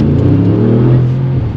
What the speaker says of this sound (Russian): то выхлоп мы слышим